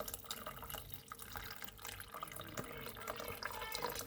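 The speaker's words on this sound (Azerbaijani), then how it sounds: "üstüne çıxana kimi də suyunu da əlavə edirsiniz" Water poured into a cooking pot until it covers the ingredients, a continuous soft splashing and trickling stream, faint and close, with no talk.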